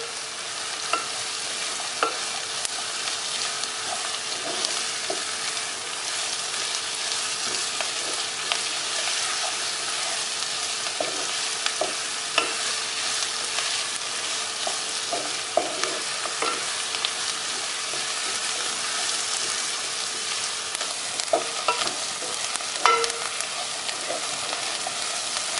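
Chopped ginger, garlic and six green chillies sautéing in a pan for a Kerala-style prawn biryani, giving a steady, continuous sizzle with scattered scraping stir clicks throughout. No voices are heard.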